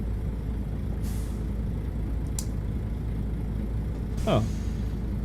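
Air brakes on a Volvo VNL truck in American Truck Simulator release in sharp pneumatic hisses over a constant low engine rumble, with a falling whine near the end and a voice speaking.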